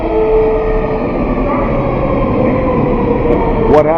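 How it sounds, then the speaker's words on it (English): A train approaches with a loud, steady low rumble and droning engine tones that build throughout, with a brief higher squeal near the end. "the train's coming"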